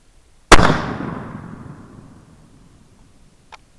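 A single loud gunshot rings out at an outdoor target range, its boom decaying over a couple of seconds, then a faint distant crack about three seconds later.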